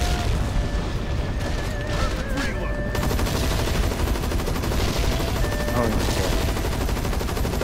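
Rapid, sustained gunfire and booming explosions in the zombie shooter Land of the Dead as barrels are shot, loud and relentless, with game music tones and occasional voices underneath.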